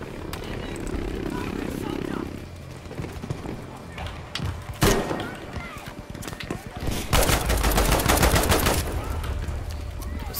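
Gunfire in Battlefield 5 crackles in bursts of machine-gun fire and single sharp shots, with a loud sustained volley near the end, mixed with other battle noise and a voice talking over it.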